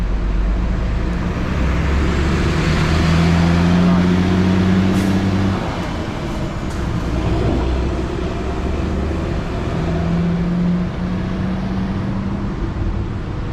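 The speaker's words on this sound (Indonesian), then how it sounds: "beginilah suasana terminal TBS Kuala Lumpur" Busy ambience at the TBS bus terminal in Kuala Lumpur, with idling bus engines droning low and steady, roadway traffic, and a wash of crowd noise. Voices talk over the constant rumble throughout.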